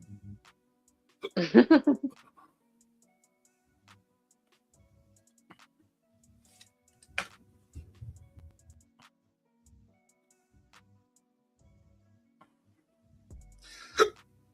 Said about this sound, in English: I got hiccups like crazy